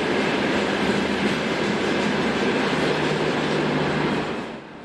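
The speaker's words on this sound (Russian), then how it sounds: "«Стриж» снова прибывает на Самарский вокзал." A Strizh high-speed train pulls into Samara station with a loud, continuous roar of wheels and carriages that holds steady and then drops off in the last second.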